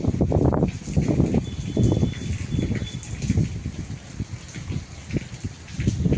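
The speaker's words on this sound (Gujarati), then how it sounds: "સતત વરસાદ તો ચાલુ જ છે" Steady gushing rain and running water during a windstorm in a village, a dense continuous wash with some uneven surges.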